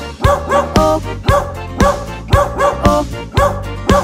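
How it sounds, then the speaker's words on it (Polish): Cartoon farmer's dog barks in a Polish children's Bingo song, giving loud, regular, tuneful barks in time with the music, roughly two per second. "Był sobie farmer i miał psa, co Bingo miał na imię."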